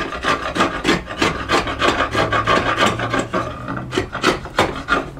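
Repeated rasping strokes of a chisel paring wood by hand to shape double tenons on a side rail, the workpiece held to a bench hook with a holdfast; loud, close, steady scraping rhythm with no talk.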